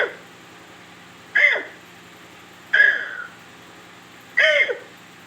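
A man vocally imitates a puppy, giving three short, whiny yelps spaced about one and a half seconds apart, each rising sharply and trailing off, with quiet gaps between.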